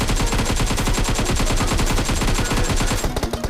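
An AKM rifle with a 3x scope in the mobile game BGMI fires a loud, rapid, unbroken automatic burst for about three seconds, then a few spaced final shots, with no talking over it.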